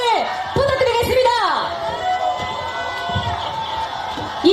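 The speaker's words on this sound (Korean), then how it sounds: "끊임없는 함성을 부탁드리겠습니다" A crowd cheers at a Democratic Party political rally in Daegu as the party leader comes to the stage, with loud sustained shouting and whoops mixed with an announcer's amplified voice over a PA.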